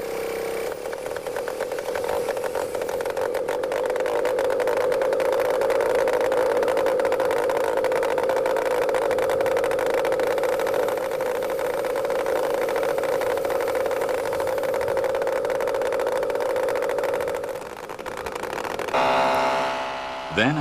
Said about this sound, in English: Its tiny piston engine is started by an ordinary power drill.